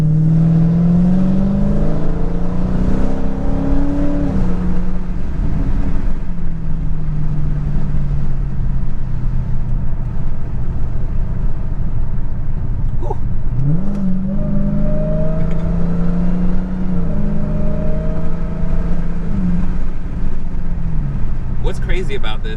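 A Dodge Charger Hellcat with a 707 hp 6.2-litre supercharged V8 roars through hard acceleration from 20 to 60 mph, loud and close, rising in pitch through repeated gear changes.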